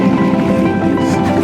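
Sea waves washing and churning steadily around a boat near Bahuluang island, a loud, close, continuous water rush with a constant motor-like drone underneath.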